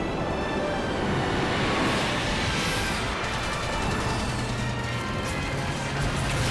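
A train in Final Fantasy XIII gives a loud, steady rushing rumble that runs unbroken for several seconds, with no voices over it.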